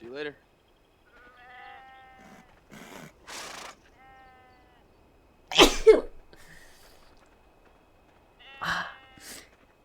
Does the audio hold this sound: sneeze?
yes